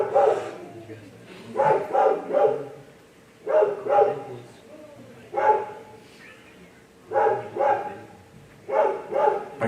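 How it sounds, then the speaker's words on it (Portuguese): A dog barks repeatedly in several short bursts at moderate distance while someone speaks in Portuguese, the barks recurring in clusters over a low outdoor background. "Esse cachorro quer sair na filmagem de qualquer jeito."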